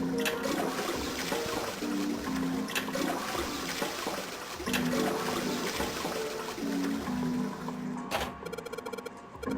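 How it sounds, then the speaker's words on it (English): A toilet in the game Nine Hours, Nine Persons, Nine Doors flushes over and over in fast succession, each rushing surge of water following closely on the last, with no talking. "A lot of flushing, really fast flushing on this thing too."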